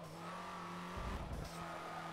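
A 2019 Hyundai Veloster Turbo brakes hard in Forza Motorsport, its tires squealing briefly over a steady engine drone, with a short rough skid burst midway and no voices.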